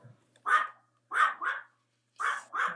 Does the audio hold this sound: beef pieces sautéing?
no